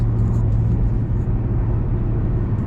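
Steady low car engine drone and road rumble while cruising at about 60 with light throttle, a constant loud hum filling the whole stretch with no talk.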